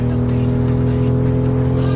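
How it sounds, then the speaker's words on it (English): A car weaves through highway traffic in the Assetto Corsa racing game, a loud, steady engine drone with tire squeal layered on top, while someone talks over it. "This is the car that I'm in right now. Cruising through traffic like I'm a menace."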